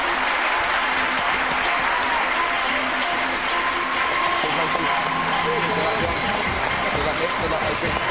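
Studio audience applause, sustained and dense throughout, a broad steady wash of clapping with no gaps from start to finish.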